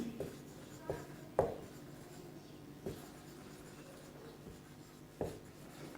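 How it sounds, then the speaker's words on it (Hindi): Marker or chalk writing on a classroom board during a physics lesson: soft scratchy strokes with a few sharper taps, faint and close, spread irregularly across a quiet room with no talking. "केस 5 लिख रहा हूं मैं, स्पेशल केस।"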